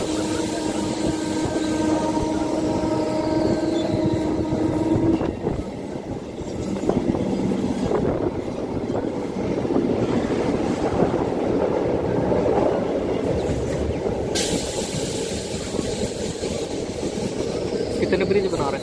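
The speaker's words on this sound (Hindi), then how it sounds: "हमारी ट्रेन अंबाला कैंट जंक्शन के प्लेटफॉर्म नंबर 3 पर जा रही है" A passenger train rolls along the rails toward Ambala Cantt junction, with a continuous rumble and rhythmic clickety-clack of wheels over joints that stays loud and close throughout.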